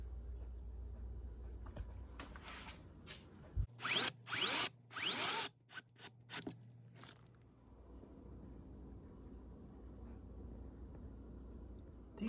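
Power drill driving screws into a metal 3-place trimmer rack, a cluster of short, loud whirring bursts with rising pitch, close up, separated by brief pauses over a quiet background hum.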